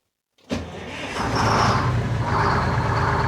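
A Detroit Diesel 6V71 truck engine, blown up and faulty, cranks and catches, then settles into a loud, steady rumbling idle close by.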